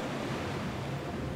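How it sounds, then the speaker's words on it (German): In Super Mario Galaxy, water floods over a planet with a steady, dense rushing roar like surf or a waterfall. It stays loud and continuous throughout, with no talk. "jetzt kommt Wasser auf die Planet"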